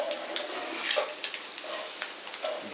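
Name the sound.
spice powder frying in pan for egg curry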